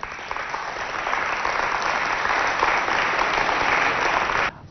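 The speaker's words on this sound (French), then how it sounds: "Sous vos applaudissements" Audience applause for a contestant called to the stage at a youth centre quiz show, a dense steady roar of clapping lasting several seconds before cutting off abruptly near the end.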